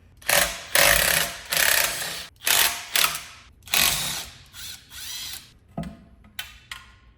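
Bolts are ratcheted out of a C5 Corvette engine's oil pan, with bursts of quick mechanical clicking separated by short pauses, close and fairly loud.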